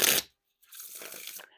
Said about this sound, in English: there's definitely nothing wrong with the Wiffle Shuffles or Bridge Shuffles